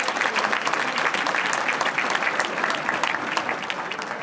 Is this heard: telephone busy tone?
no